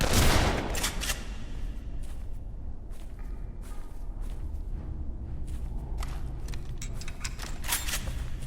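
Gunfire in the Dead Island video game, set in a jungle: a loud burst of shots opens, then scattered rapid firearm reports and rattling bursts continue at moderate level with no talk.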